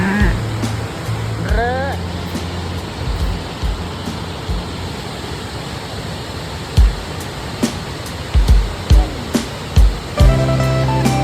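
Tad Kha Mued waterfall in southern Laos rushes as a steady broadband roar throughout, with scattered knocks and brief bursts of other noise on top.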